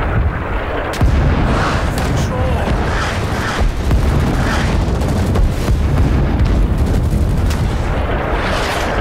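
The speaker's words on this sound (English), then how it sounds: "Barrage inbound. Take cover." Artillery barrage in the Vietnam War game Rising Storm 2: Vietnam, a dense, loud rumble of overlapping explosions and booms with gunfire mixed in, continuous and close, with voices talking underneath.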